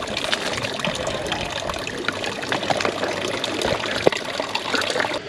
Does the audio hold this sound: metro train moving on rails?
no